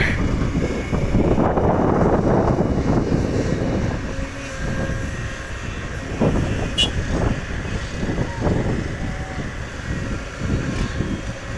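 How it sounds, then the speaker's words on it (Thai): Constant strong wind from a giant fan near an excavator dig site, a loud steady roaring rush with buffeting gusts throughout and no voices. "ใกล้พัดลมยักษ์นะคะ หนาวมากหนาวเลยแหละ คือไม่ร้อนนี่คือลมตลอดเวลา"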